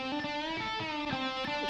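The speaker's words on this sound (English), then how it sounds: "The room reverb," Electric guitar solo, played through a room reverb effect: sustained, distorted notes with a roomy tail, played alone and loud with no talking.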